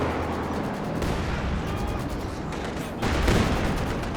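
Artillery in a Company of Heroes 2 match sends a sustained barrage of booming shell impacts and crackling explosions, dense and continuous with heavier bursts partway through and near the end.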